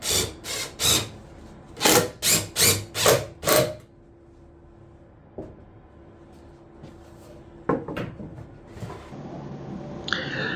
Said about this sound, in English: I use countersink for the head of the screws because later I will hide the screws with dowels